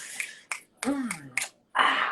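Finger snaps, a few sharp crisp clicks spaced irregularly, with a brief murmured voice between them and a short breathy noise at the end.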